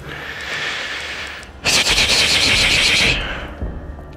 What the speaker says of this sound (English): Mr. X heard my gunshots